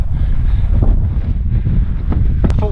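Strong wind on Snowdon's Miners' track in July buffets the microphone, a steady, loud, low roar of gusts that continues throughout.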